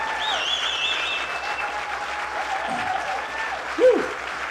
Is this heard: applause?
yes